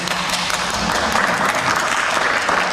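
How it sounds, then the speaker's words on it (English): A crowd at a 2016 county sheriff Democratic primary debate applauds steadily, a dense, even wash of clapping from many hands that holds throughout without any speech. "give him a bigger round of applause than that."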